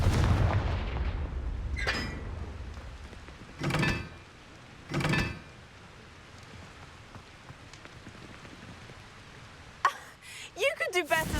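Confringo blasting spell bursts in the Hogwarts Legacy video game: a few sharp, separate booms spaced a second or two apart over quiet ambience, then a spoken line near the end.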